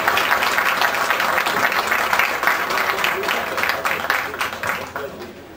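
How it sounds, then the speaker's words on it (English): A crowd at a WWII weekend air show applauds Tuskegee Airmen veterans, sustained dense clapping at a steady level throughout, with a little crowd murmur beneath. "I'd like to first give these guys a big round of applause."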